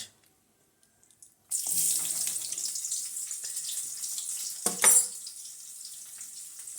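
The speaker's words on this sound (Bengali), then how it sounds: "এবার পেঁয়াজ দিয়ে দিচ্ছি পেঁয়াজ আর কাঁচা লঙ্কা" Onions and green chillies hit hot mustard oil in a kadai and fry with a steady, close hiss that starts abruptly after a quiet moment and continues evenly, with a brief louder burst partway through.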